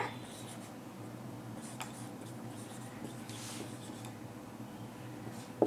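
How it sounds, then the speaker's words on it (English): Pen or pencil writing on paper while working a geometry problem on quadrilaterals, a steady soft scratching that runs throughout at close range, alone with no talk. "So, we can write it down."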